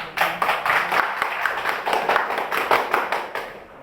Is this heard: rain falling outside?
no